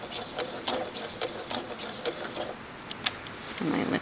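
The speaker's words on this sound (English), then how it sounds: "And then I just start sewing slowly. And it goes right through the metal with no problem at all." A sewing machine stitching slowly through thin metal, a rapid run of mechanical ticks and clacks under faint background hiss, with a soft thud near the end.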